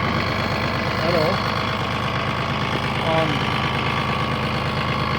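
Steady idle of a Mahindra Max 26 XL tractor's three-cylinder diesel engine, a continuous close rumble with even pulsing throughout, with a voice talking over it at moments.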